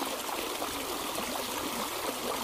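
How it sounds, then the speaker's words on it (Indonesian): A river flows beneath a bridge near a forested mountain, a steady broad rushing trickle heard close and continuous without speech. "Ini di jembatan ya. Sambil lihat-lihat sungai."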